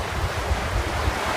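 Strong wind gusts rushing over open sea aboard a small trailer sailer under mainsail alone, with steady roaring wind noise and wash of waves close to the microphone, no voices.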